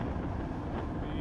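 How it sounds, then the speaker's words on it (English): A gusty high wind buffets the microphone in a brief, loud, rumbling roar, steady and close throughout, around a six-metre Gin Shaman 3 kite. "Super gusty winds."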